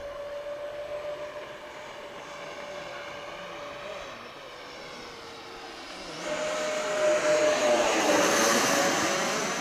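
Electric ducted fan RC jet, a FF-117V2 with 50mm and 64mm fans, flying overhead with a steady high whooshing whine that grows louder and sweeps in pitch as it passes close.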